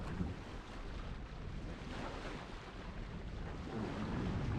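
A sailboat heads down a sound near Iona, with steady wind buffeting the microphone over a broad rush of water along the hull, constant and enveloping, with no voices.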